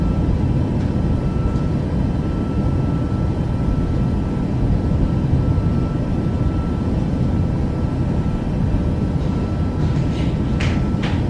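Airliner engines on the takeoff roll in Microsoft Flight Simulator 2024, a loud constant roar with steady low rumble filling the whole stretch, a few faint clicks near the end.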